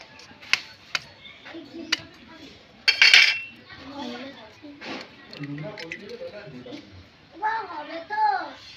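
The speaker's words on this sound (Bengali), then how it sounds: "এবার ডিমটাকে ফাটিয়ে দেখবো সত্যি ডিমটা হয় কিনা" A pan clatters as an egg is cracked into mustard oil under direct sun, sharp metallic knocks and a clack near the start, with a child and an adult talking throughout.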